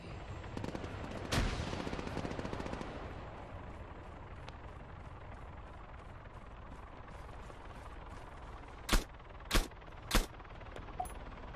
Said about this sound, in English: Easy shot, but it still took me 3 goes to get him.